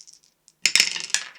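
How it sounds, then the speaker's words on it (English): A die dropped during a tabletop dungeon board game clatters across a hard floor, a bright burst of bouncing clicks and rattles after a brief quiet tap, close and fairly loud. "Oops, I've just thrown a dice on the floor"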